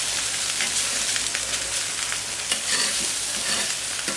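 Pork fillet cooking on a hot plancha, a loud continuous close-up sizzle and crackle of meat searing on the flat griddle, with no talking.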